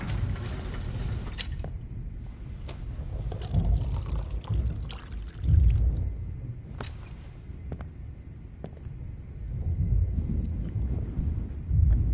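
Water is poured in the video game Life Is Strange, a soft trickling pour that swells and fades against a windy, hissing background, with no clear talk.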